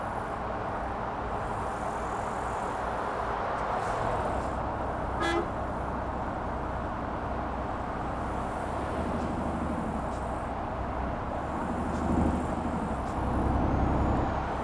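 A truck horn in the Euro Truck Simulator 2 driving game gives one short, loud toot over a steady engine and road rumble, with no other horn blasts.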